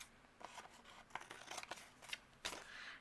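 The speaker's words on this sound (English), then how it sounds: "we're going to use our scissors and trim off." Scissors trimming excess overhanging paper from a pressed-down card-making piece: a handful of short, crisp snips at an uneven rhythm, close and fairly quiet, with no one talking.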